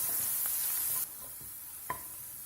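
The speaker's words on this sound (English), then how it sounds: "Saute the onions till they are light golden in color." Onions sauté in oil in a pan with a soft, close sizzle, strongest in the first second and then quieter, with a few light stirring clicks.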